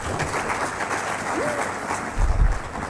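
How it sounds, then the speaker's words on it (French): After a tied score in a high-school quiz contest, the audience applauds in a steady wash of clapping, with a brief tonal sound and a rumbling low thump near the end. "Applaudissez."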